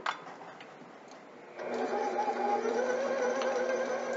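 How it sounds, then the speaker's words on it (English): An electric mixer beats very soft cream cheese for cheesecake pops, starting after a quiet moment with a sudden steady motor whir that keeps going close and even to the end. "I'm going to get that going on the mixer."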